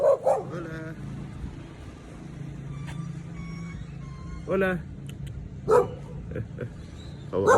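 A dog on a city street in Mexico barks in short, separate bursts, several spaced across the stretch, over steady low traffic rumble and some faint reversing beeps. Someone briefly speaks a greeting.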